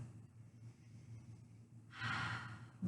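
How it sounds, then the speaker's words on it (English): A deep breath during a yoga class: quiet low room hum for about two seconds, then one loud, close, airy inhale swelling up and holding to the end, with no talking. "Big breath."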